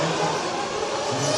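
A race car engine drones steadily through a qualifying lap at the Silver State event, a continuous, fairly loud mid-pitched roar.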